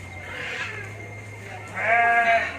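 Goats bleat nearby in two drawn-out wavering calls, the second louder and closer, over a low steady background hum.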